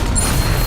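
A Bombarda blasting spell goes off in the Hogwarts Legacy video game: a short, loud, dense crash-like boom with a rumbling low end that stays full and steady across the whole brief moment, with no voices over it.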